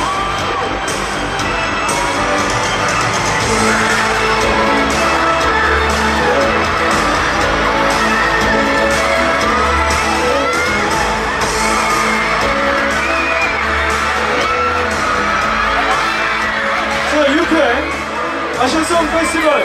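An audience at the Asia Song Festival in Seoul roars with loud, continuous cheering, whoops and shouts, a dense crowd wash that stays at full volume throughout.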